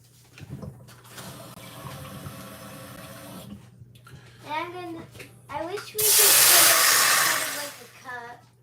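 Tap water runs into a pot or cup for instant chicken-flavor ramen in a home kitchen, a loud broadband rush in the last few seconds after quieter kitchen sounds, with people talking nearby.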